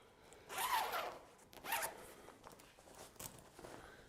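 Zipper on a Festool guide rail carrying bag pulled in a few quick bursts, a long rasping stroke followed by shorter, fainter tugs, close and quiet with no talk.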